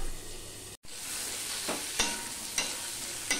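Sliced onions and potatoes fry in a pan with a steady soft sizzle, broken by several distinct scraping strokes of a spatula stirring them.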